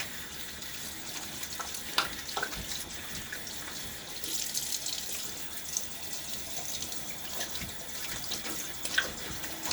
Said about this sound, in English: One of the problems is I have to figure out how to turn the water on when I have my hands all in the lather.